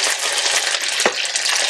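Pieces of chicken sizzle steadily in a hot pan for Kung Pao chicken, a continuous loud hiss of frying with a brief clatter partway through.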